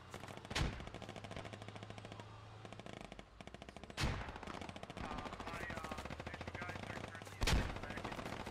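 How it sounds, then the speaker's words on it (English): Gunfire and frag rocket explosions in a war video game during a beach landing assault on a bunker: rapid machine gun fire rattles continuously, broken by three heavy booming blasts, with talk at times over the battle. "that frag rocket got 2 on the backside of that bunker"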